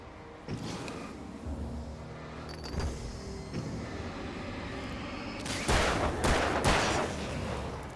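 Gunfire in the video game Alan Wake, a few sharp shots spread over several seconds, the loudest cluster arriving near the end over a steady rumbling game backdrop.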